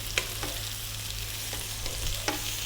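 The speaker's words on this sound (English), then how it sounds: "in goes the garlic ginger paste" Garlic ginger paste, a 50-50 mix, fries in a hot pan with oil, giving a steady close sizzle broken by several sharp pops and stirring scrapes, with a low steady hum underneath and no talking.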